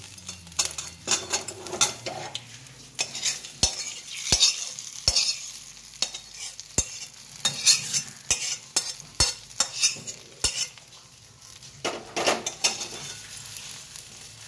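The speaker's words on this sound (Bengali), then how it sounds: "জ্বালিয়ে পুরো মশলাটা ভালো করে মাখিয়ে দিয়ে" Spice paste of ground chili being mixed into bottle gourd in a pan over a lit gas flame, with frequent sharp clinks and scrapes of a utensil against the pan over a light sizzle, close and irregular.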